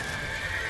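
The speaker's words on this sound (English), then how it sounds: "the horses are escaping" Horse whinny from the video game A Way Out, a short, fairly loud neigh heard alone with no talk.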